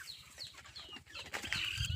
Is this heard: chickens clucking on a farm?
yes